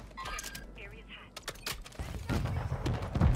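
Scattered gunshots and clicks from the shooter Warzone crackle in short bursts, growing busier and louder toward the end while players talk over the action.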